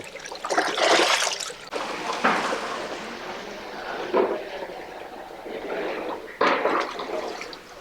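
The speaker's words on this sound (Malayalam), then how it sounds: "നമുക്കൊരു രണ്ട് വെള്ളത്തിൽ നന്നായിട്ടൊന്ന് കഴുകിയെടുക്കാട്ടെ" Water sloshes and splashes in bursts as tapioca is rinsed and swirled by hand, with a steady trickling wash between the louder churns.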